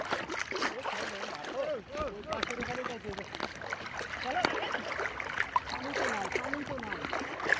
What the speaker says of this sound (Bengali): এই যে ঢেউ আসতেছে।